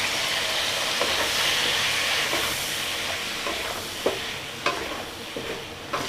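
Boiled eggs fry in a chilli and turmeric masala for an egg curry, giving a steady close sizzle with a few clinks and stirring scrapes of a spoon against the pan, and no voices.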